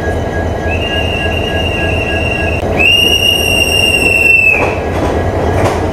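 Mysore–Tirunelveli special train easing into a railway platform, with loud sustained wheel squeal that rises to a sharper piercing screech and then fades, over a steady rumble of rolling wagons, close by.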